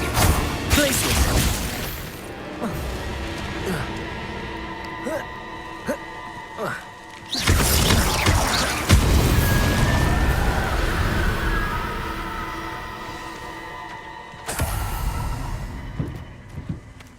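A burst of magical effects from the Glacius freezing spell in Hogwarts Legacy, with loud crashing blasts and a sustained icy, grinding shimmer over layered game sound effects.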